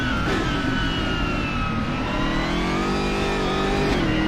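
A GT3 race car engine at Bathurst in a racing game drones loudly and steadily, its pitch rising and falling slightly as it revs through the whole stretch with no talk over it.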